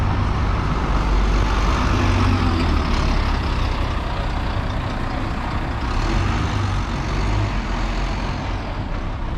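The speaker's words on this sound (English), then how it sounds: "Here's the bus making its way off." A suburban Sheffield bus pulls away from Totley, its engine rumbling loudly and steadily with deep low-end drone and road noise, close by and continuous throughout.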